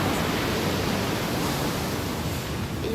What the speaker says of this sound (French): Et en fait il y a des méga vagues.